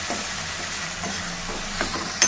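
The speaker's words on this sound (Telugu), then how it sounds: "ఇప్పుడు ఇది అన్నీ బాగా కలుపుకొని మూత పెట్టేసుకోవాలి" Tomato chicken curry stirred in a pan, with a soft background sizzle broken by a few scraping strokes of the spoon and a sharper knock near the end, close and fairly quiet.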